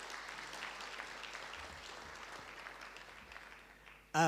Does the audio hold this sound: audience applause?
yes